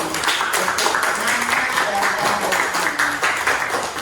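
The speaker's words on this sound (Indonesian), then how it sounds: "Oke, jadi tepuk tangan." Students in a classroom clap hands together, a dense steady patter of many small hands filling the room, with a voice murmuring faintly underneath.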